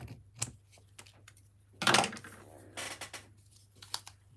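Paper being cut with scissors for a handmade card in a December Daily journal, a few quiet snips with one louder crisp cut in the middle, close and alone with no talking.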